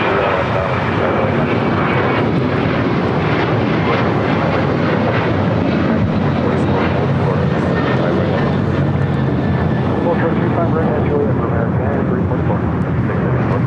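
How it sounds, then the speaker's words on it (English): Delta Airlines Boeing 737-900ER jet taking off at LAX, a loud, continuous engine roar filling the whole stretch at close range, steady and dense throughout. "This is Delta Airlines 684 taking off to Raleigh-Durham on a 737-900ER."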